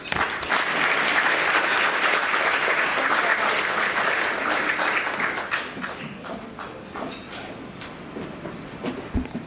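A conference audience at a welcome lunch breaks into sustained, loud applause for a speaker coming to the stage, the clapping thinning into scattered claps toward the end.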